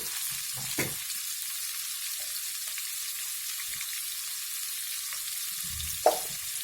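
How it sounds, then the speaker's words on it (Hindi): Vegetables frying in a pan with salt and turmeric, a steady close sizzle throughout with a few soft clinks and stirring knocks. "इसीलिए मैं ये सभी को एक साथ फ्राई कर लूँगी"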